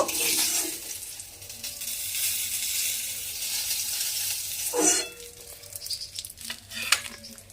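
Fish frying in hot oil for a Bengali begun vola jhal, a steady close sizzle with brief bubbling bursts and a few soft clinks near the end.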